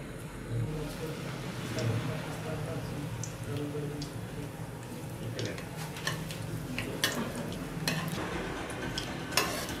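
Whole spices frying in hot oil for biryani, a moderate sizzle with clinking stirring taps and a voice speaking intermittently over it.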